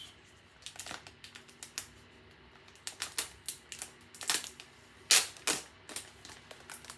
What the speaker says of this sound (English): So I've just opened the rice.